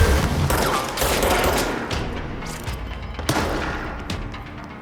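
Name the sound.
shotgun enemy firing in the video game Control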